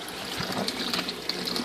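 Water falls and splashes into the reservoir of a 40-gallon RDWC hydroponic system. A continuous, fairly quiet trickling rush with small irregular splashes runs throughout and nothing else is heard.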